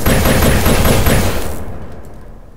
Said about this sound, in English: laser rifles are very effective